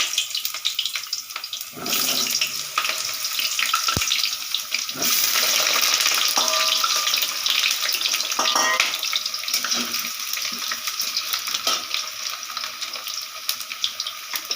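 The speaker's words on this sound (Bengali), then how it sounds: "আলুটা আমি তেলের মধ্যে দিয়ে দিচ্ছি আলুটা ভেজে নেব" Potatoes sizzle in hot oil while a Bengali chicken curry (kok murgi jhol) is being cooked, a steady close hiss of frying that runs for the whole stretch without pause.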